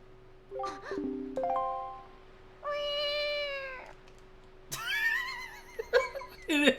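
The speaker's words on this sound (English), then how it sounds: "It is a meow." A cat meows several times at varying pitch: short chirps early, then a long drawn-out meow, followed by a cluster of sharper, higher calls, fairly close and clear.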